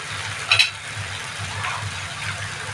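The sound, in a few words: chili powder and spices frying in oil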